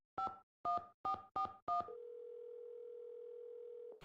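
Five short telephone keypad dialing tones beep in quick succession in a Nancy Drew video game, followed by a steady, continuous phone line tone lasting about two seconds, clean and isolated.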